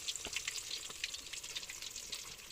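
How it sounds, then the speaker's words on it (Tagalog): Food frying in a pan, a steady crackling sizzle with scattered bright pops and spatters, close and continuous throughout without any voices. "mag-prito tayo"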